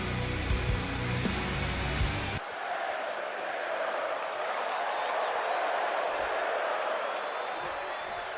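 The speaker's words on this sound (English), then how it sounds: "You hear the crowd right there chanting for Rey Mysterio" A video game arena crowd in WWE 2K24 roars steadily for Rey Mysterio, a broad, sustained wall of cheering that follows a burst of loud entrance music at the start.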